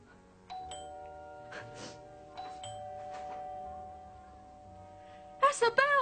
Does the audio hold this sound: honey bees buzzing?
no